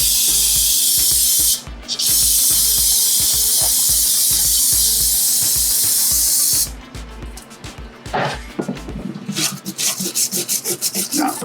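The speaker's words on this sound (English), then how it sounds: "Brake cleaner." Brake cleaner hisses from an aerosol can in two long, close bursts with a short break between, followed by faint scraping and tapping of work on a Porsche 914 relay board.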